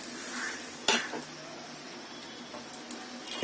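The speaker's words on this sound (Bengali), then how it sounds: "তেলটা গরম হয়ে গেছে। এখন আমি ডিমটা দিয়ে দিচ্ছি।" Beaten eggs hitting hot oil in a pan to be scrambled, a sharp burst of sizzle followed by a steady crackle and a few utensil knocks and scrapes.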